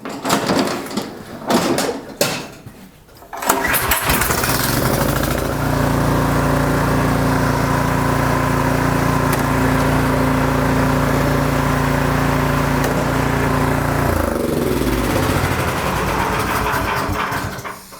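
An Ariens snowblower engine runs with a steady low drone after a few knocks and handling sounds, holding a constant loud idle for about ten seconds before the pitch drops and it slows.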